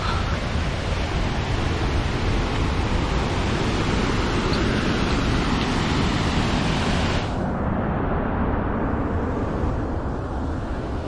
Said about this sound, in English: lots of small waterfalls.